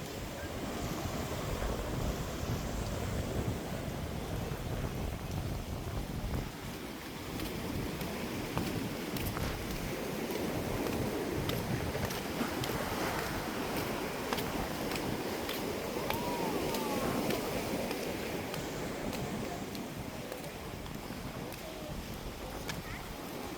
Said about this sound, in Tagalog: Ang ganda papakinggan ng tunog, hampas sa mga alon.